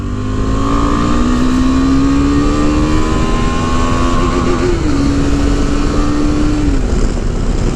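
A KTM 390 Adventure motorcycle engine roars loudly and climbs in pitch, dropping briefly at each gear change before rising again, with heavy wind noise throughout.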